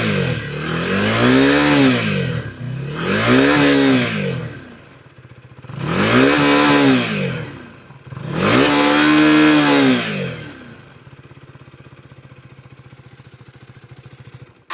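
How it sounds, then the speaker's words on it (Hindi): Husqvarna Vitpilen motorcycle revved four times while standing, each rise and fall of the engine and exhaust note loud and close, separated by a lumpy idle that continues at the end. "तो अभी हम थोड़ा सा इसका जो एग्जॉस्ट नोट है वो सुनाने की कोशिश करते हैं।"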